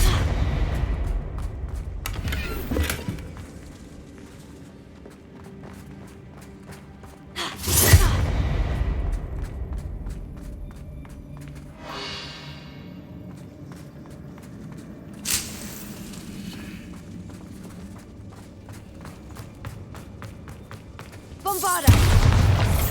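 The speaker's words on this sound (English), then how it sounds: "Bombarda!" Bombarda explosion spells in Hogwarts Legacy, four loud booming blasts spread across the stretch, each standing out against quieter game ambience with footsteps and small movement sounds between them.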